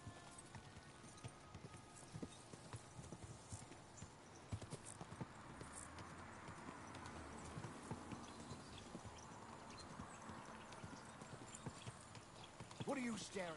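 Horse hooves clip-clopping steadily in the video game Kingdom Come: Deliverance 2, a quick continuous rhythm with ambient game sound and a voice talking over it.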